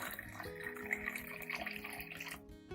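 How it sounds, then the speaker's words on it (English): About 500 milliliters of clean water is poured onto aloe vera ready for blending, a faint, steady trickle and splash close by. "Next, I add about 500 milliliters of clean water"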